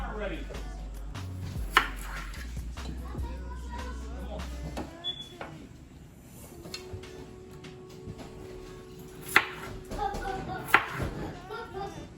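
Potatoes being cut into quarters with a knife in a home kitchen, with a few sharp, separate knife taps on a board spaced seconds apart, heard under steady talking.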